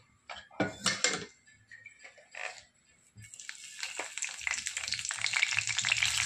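Clattering pan and utensil knocks, then a loud sizzle of curry leaves and cumin hitting hot oil in a kadhai that builds and holds steady to the end.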